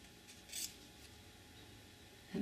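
Scissors cut out a paper template for a faux metal book corner, giving a short close snip burst near the start and another crisp cut at the end, with a quiet steady background between.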